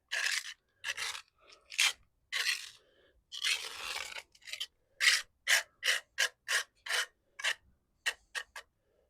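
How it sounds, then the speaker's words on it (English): A trowel edge scrapes resin grout into tile joints in a series of short, close, gritty strokes, slow at first and then quicker and more regular toward the end, with no talk. "You scrape it into the joint. I like to use the edge of the trowel."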